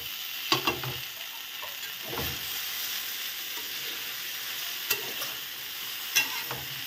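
Beans and yardlong beans fry in a pan for echor chhari, a soft steady sizzle broken by a few sharp scrapes and clanks of stirring, close up with no talking.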